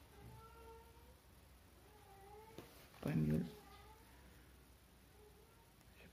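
A cat meows repeatedly indoors in drawn-out, calling tones, with one louder, harsher cry midway; a person speaks briefly nearby.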